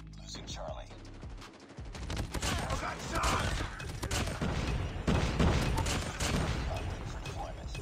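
Rapid bursts of auto-fire shotgun blasts from hip fire in the Call of Duty Mobile video game, dense and loud over game noise, with a voice talking underneath.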